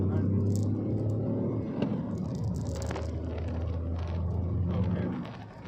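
A Tata Tiago drives along in third gear at about 80, with low engine rumble and road roar heard steadily from inside the cabin and a brief, faint voice in the background.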